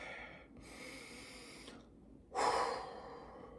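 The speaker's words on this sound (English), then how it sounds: "Take a deep breath." One slow, deep breath during a guided relaxation: a long, soft inhale, a brief pause, then a louder, fuller exhale, close and quiet.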